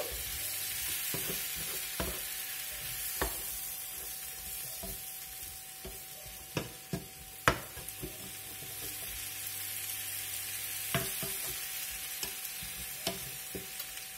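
Small onions frying in a pan with zucchini and meatballs nearby, a steady close sizzle with scattered crackles and occasional stirring knocks, continuous throughout and alone with no talk.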